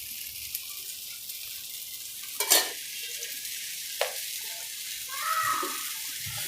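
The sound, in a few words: corn bhel puda frying in oil in a pan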